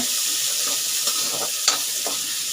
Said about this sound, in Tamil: இப்போது கொஞ்சம் நல்லா வெங்காயம் வதங்கட்டங்க.